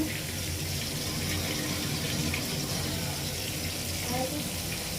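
Rice being washed for cooking under a running tap in a kitchen gives a steady, moderately quiet hiss of flowing water with faint splashing throughout.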